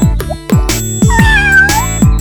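Cartoon kitten meowing in a bright, high voice several times, with playful music and other cartoon sounds around it.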